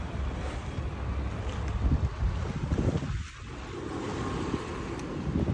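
Sea waves splash and surge beside the shore in Mumbai, a continuous close wash of water with wind buffeting the microphone and a brief dip midway.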